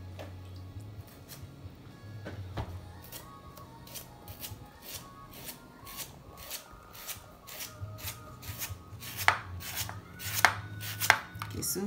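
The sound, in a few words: slicing ingredients with a knife for khao poon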